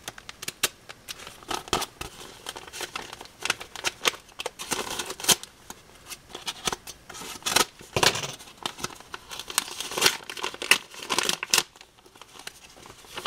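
A small paper envelope sealed with tape being opened, with irregular crinkling, tearing and rustling paper bursts throughout, close and moderately quiet, with no talk over them.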